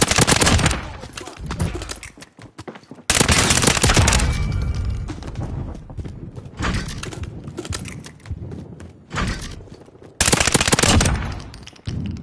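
Call of Duty Modern Warfare weapon fire in tap-fire bursts: loud, sharp volleys of rapid gunshots arriving in separate clusters with brief gaps between them, a voice speaking faintly in between.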